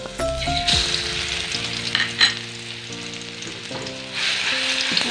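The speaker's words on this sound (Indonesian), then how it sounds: "ini kita tumis dulu ya bumbunya" Spice paste for a quail egg, broccoli and carrot soup sizzles steadily in a hot pan, with stirring scrapes and a faint tonal background throughout, no talking.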